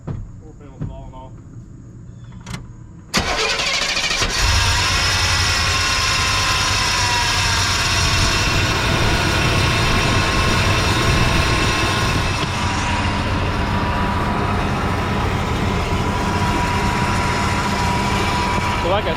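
A Chevy Blazer Z71 truck engine starts after a few soft clicks and quiet moments, then settles into a steady, loud, close idle that runs unbroken for the rest of the clip.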